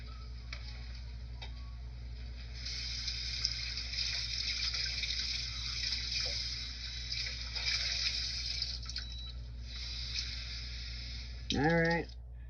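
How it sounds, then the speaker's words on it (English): Tap water running steadily into a plastic container in a home kitchen, a faint continuous hiss and splash that carries on for several seconds before a short voice near the end. "Put a little bit of water in that plastic container that you were using before."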